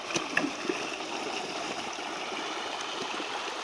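Water rushing out of a released stream dam built to catch fish in a forest, a steady broadband flowing rush with a few faint clicks near the start, continuous and fairly close.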